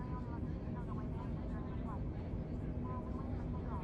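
Airbus A320 engines spooling toward full takeoff throttle in Microsoft Flight Simulator, a steady broadband roar with a low hum held throughout, while someone talks over it.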